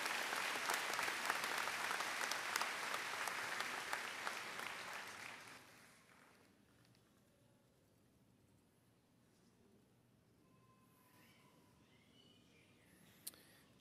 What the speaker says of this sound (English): Please give all these students a collective round of applause for their achievement.